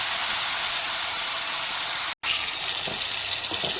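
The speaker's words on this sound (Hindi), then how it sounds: "ये ज़ीरा और जो है ना कलौंजी हमारी तड़तड़ाने लग गई है" Cumin and nigella seeds with masala sizzling in hot oil for achari aloo gobhi, a loud continuous hiss close by with a brief break partway, no talk.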